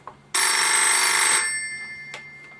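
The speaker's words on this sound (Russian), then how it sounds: "У меня зазвонил телефон." A single loud ring of a telephone bell lasts about a second, then fades away into near silence.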